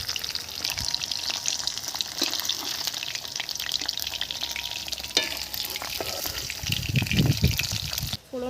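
Pieces of pond-caught Gucchi Baim fish fry in hot oil for curry, with a steady close sizzle and bubbling and occasional spatula scrapes and stirring knocks, ending in a brief clatter.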